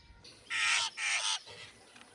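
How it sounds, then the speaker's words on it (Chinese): A jay fledgling gives three harsh, raspy begging calls in quick succession, close and fairly loud, asking a magpie for food. "它把这个喜鹊认成妈妈了，向它索食"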